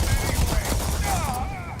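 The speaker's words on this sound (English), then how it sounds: "Yeah, I'm getting shot by somebody." Gunfire in the video game Starfield: a rapid flurry of shots mixed with whooshing effects and a faint voice underneath, loud and close over a short burst.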